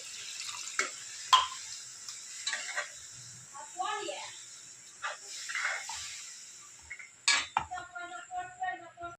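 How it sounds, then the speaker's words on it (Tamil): Water trickles and splashes into a pan of tamarind curry made with dried turkey berries as it is stirred. The pouring and stirring sounds come in soft, intermittent bursts over a faint background hiss. "கொஞ்சம் தண்ணி ஊற்றிக்கணும், ஏன்னா கட்டியாக எடுக்கும்."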